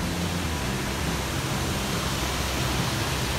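Chet Sao Noi Waterfall, a steady, dense rush of falling water that fills the air close by, broadband and unbroken with no other sounds.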